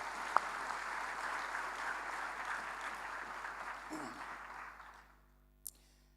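A church crowd applauds for Jesus, a dense wash of clapping that holds steady and then fades out, with a sharp click near the end.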